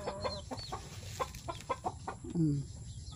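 Farm chickens cluck around a pile of feed in short, scattered bursts close by. A few higher calls mix in, with a drawn-out squawk near the end.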